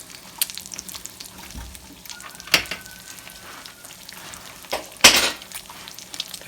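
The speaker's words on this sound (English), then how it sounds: "even with frying an egg" An egg fries over easy in a new carbon steel frying pan, giving a soft continuous sizzle broken by a few sharp scrapes and clatters of a utensil against the pan.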